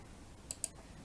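Two quick, crisp mouse clicks in close succession against a quiet background.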